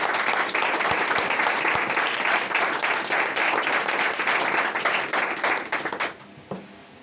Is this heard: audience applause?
yes